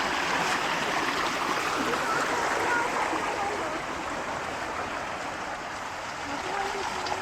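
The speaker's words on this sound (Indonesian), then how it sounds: "Oh, aliran sungai yang sangat deras." Swift-flowing river by a riverside campground rushes in a steady, loud broadband wash with no breaks, and a voice speaks faintly beneath it.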